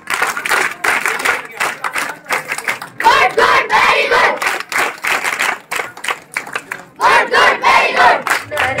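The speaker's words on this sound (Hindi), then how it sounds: "विशेष ताली बजा।" At a school Independence Day celebration, a crowd claps in energetic bursts, rhythmic rapid hand claps swelling and pausing several times, with voices mixed in among the applause.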